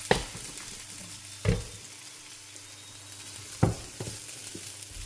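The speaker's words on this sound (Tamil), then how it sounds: "பொட்டேட்டோ நல்லா ஃப்ரை ஆகிடுச்சு." Potatoes frying in oil with chili powder in a pan, a soft continuous sizzle broken by three or four distinct scraping stir strokes, close and fairly quiet, with no talking.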